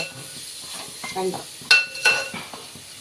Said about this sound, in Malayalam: നല്ലപോലെ വഴറ്റണം. വയറ്റി അമ്മയെ കൊണ്ട് ഇളക്കിപ്പിക്കാം.